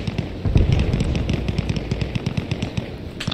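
Dense, continuous gunfire and explosions from the Arma Reforger military game, with rapid repeated bursts of shots and heavy booms blending into a loud, sustained barrage.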